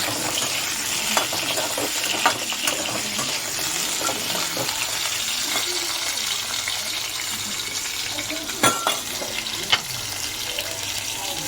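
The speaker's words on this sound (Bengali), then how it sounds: "কড়াইতে তেল দিয়ে দিলাম, হালকা করে আলুটা আমার ভেজে নেব।" Potatoes fry gently in oil in a kadai, giving a steady soft sizzle with occasional clinks and scrapes of a stirring utensil, close and fairly quiet.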